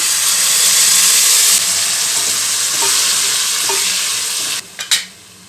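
Tamarind juice sizzling in a hot pan on a medium flame, poured over lightly fried chana dal for gojju avalakki; a loud, steady broadband sizzle fills most of the stretch, then dips near the end with a couple of short clatters.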